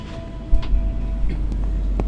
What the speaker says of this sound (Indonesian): ini kereta api Menoreh berangkat dari stasiun Jatibarang menuju Jakarta Pasar Senen